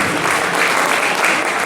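Applause for the juniors at a karting awards night, a dense steady patter of many hands clapping continuously throughout, fairly loud and close.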